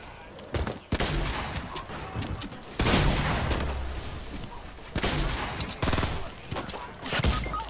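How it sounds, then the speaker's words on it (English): Rapid, sustained minigun fire in Fortnite, dense bursts rattling loudly and continuously with brief gaps between volleys, alone. "And he uses a minigun."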